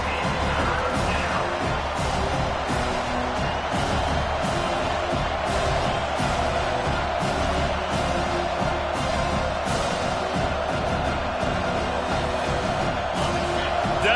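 A big crowd roars steadily at Penn State's football stadium during a college game against Bowling Green as the defense lines up on third down, a dense, continuous, loud wash of cheering that fills the whole stretch.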